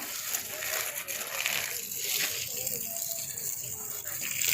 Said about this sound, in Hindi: अब मैं पौधों को पानी देती हूँ।